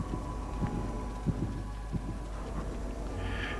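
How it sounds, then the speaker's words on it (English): Heartbeat sound cue from the video game The Tyranny of King Washington, a higher-pitched beat giving several soft, evenly spaced thumps over a low steady hum, with a brief brighter tone near the end. "You can hear the heartbeat, it's just higher pitched."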